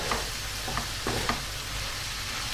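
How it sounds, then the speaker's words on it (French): Beef taco filling with a little tomato paste stirred in a pan, a few short scraping strokes over a soft continuous sizzle. "Je mélange bien le tout."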